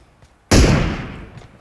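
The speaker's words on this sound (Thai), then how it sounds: "นี่เสียงปืนมาจากทางนี้เห็นไหม" A single loud gunshot in the battle royale game PUBG cracks suddenly after a quiet moment, then decays over about a second into a rumbling echo.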